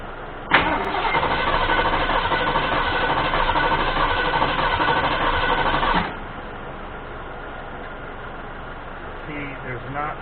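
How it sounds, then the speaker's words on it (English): A Ford 351M truck engine cranks and catches, running loud and steady for several seconds before cutting back to a lower idle-like hum with a fan whirring nearby. "I'm going to keep cranking it over just for a few seconds at a time"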